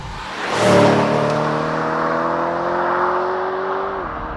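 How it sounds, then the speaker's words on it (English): A BMW E92 M3 GTS on sticky Cup 2 tyres drives by at close range, a steady droning engine note over broadband tyre roar that swells early, holds, then drops away. "As you can hear, there's plenty of pickup on the Cup 2 tyres, nice sticky rubber"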